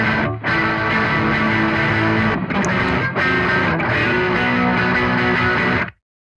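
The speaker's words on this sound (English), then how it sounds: "So you've got D1, which is going to be the heavily compressed distortion." An electric guitar plays through the heavily compressed D1 distortion channel of a Laney Ironheart Aurora DSP, a loud, dense and sustained crunch with sharp breaks between chords before it cuts to silence.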